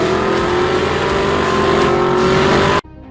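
A supercharged 6.2-liter V8 in a Chevrolet Camaro ZL1 1LE holds a loud, steady engine drone with strong low harmonics for nearly three seconds before cutting off abruptly.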